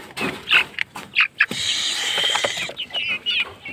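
Brahma and Black Cochin chickens at a poultry farm selling foreign breeds, with a series of short clucks and calls close by, separated by brief pauses, and a longer continuous stretch of mixed fowl noise in the middle.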